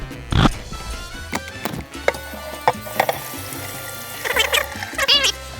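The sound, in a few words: rinsing laser-etched metal under running water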